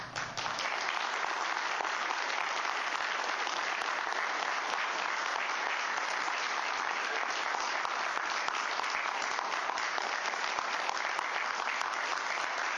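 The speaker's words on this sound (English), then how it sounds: "That's the longest and most enthusiastic applause I've ever heard in this council chamber" Long, enthusiastic applause from a crowd filling a council chamber, a dense, steady roar of many hands clapping that holds at an even level throughout with no voices.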